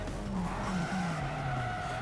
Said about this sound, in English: this is the basic starter car that you get